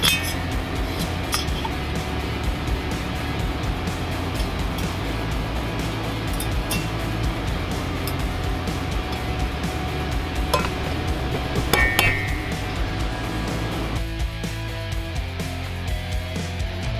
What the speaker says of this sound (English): install the valves and springs